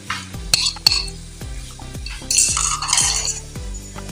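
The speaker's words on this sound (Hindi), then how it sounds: "शिमला मिर्च और सब्ज़ मिर्च है वो डाल रही हूँ, सब्ज़ धनिया ये डाल रही हूँ," Capsicum, green chilies and coriander go into a chicken handi, with repeated spoon clinks and scrapes against the metal pot over a soft sizzle, a string of sharp taps at a steady pace.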